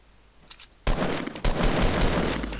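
Sniper gunfire in the Fortnite video game: a faint burst early on, then two loud sharp shots about half a second apart, followed by sustained loud game noise.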